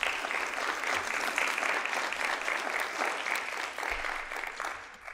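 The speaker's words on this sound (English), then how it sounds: "Let's give them all a big round of applause." Audience applause at a community forum for ward council candidates, a steady, dense wash of many hands clapping throughout, fairly distant and even in level.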